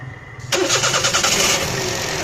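A car engine with a misfire problem cranks and catches after half a second of near-quiet, then runs loud and close in a rough, pulsing idle.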